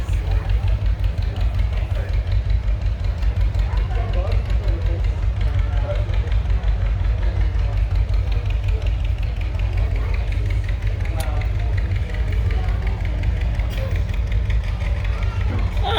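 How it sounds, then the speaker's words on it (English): A 1926 Fairbanks Morse 2 horsepower engine driving a plate mill runs steadily at a farm show, its low continuous chugging carrying the whole time beneath crowd chatter and voices. "we have the 1926 Fairbanks Morse 2 horsepower engine"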